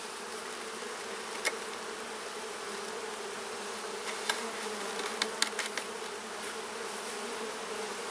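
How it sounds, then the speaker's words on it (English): Honey bees swarm an opened hive late in the day, filling the air with a dense, steady buzz at close range. A few louder wingbeats pass near at moments, and no one speaks. "there's a lot of bees in here"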